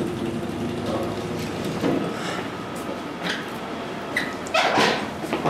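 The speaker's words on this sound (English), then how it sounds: "listen for the dogs." Dogs at home bark, yip and whimper in short bursts under a steady indoor background, growing louder toward the end.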